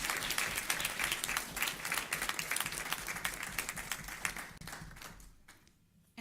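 Audience applause congratulating a student honored for committing to community service at a school board meeting: dense, steady clapping from a roomful of people that fades out near the end.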